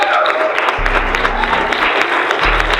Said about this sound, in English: So let's give these gentlemen right here a huge,